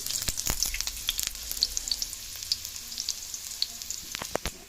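Garlic sautés in a pan for mung bean soup, a close, steady sizzle broken by sharp crackles and pops.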